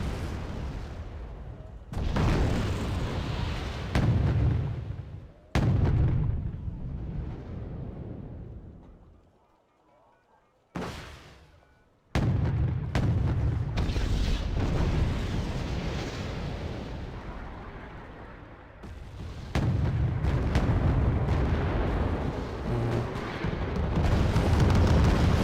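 Artillery barrages in the Wargame: Red Dragon battle, with loud, heavy booms and rumbling blasts arriving in dense bursts. They break off abruptly a few times into brief near-silence, then resume.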